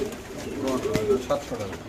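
A single pigeon gives low, soft coos in short phrases close by, with a person talking over it.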